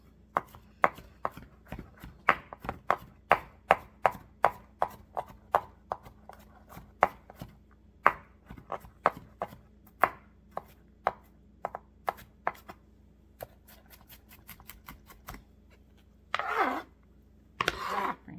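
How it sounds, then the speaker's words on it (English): A knife minces garlic on a board for baked ziti, a long run of quick, even, close taps that thin out near the end, followed by two brief rustling bursts. "I'm almost there where I want to be for mincing the garlic"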